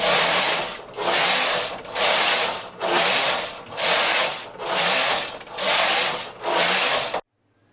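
Knitting machine carriage sliding back and forth across the needle bed knitting rows of stockinette stitch, eight loud rhythmic swooshing passes with brief pauses between them, then silence.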